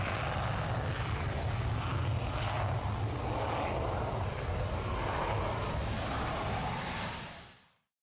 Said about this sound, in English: In addition to the 3 Rafales, there is 1 A400M transport aircraft and 2 A330 MRTT multi-role tanker transport aircraft.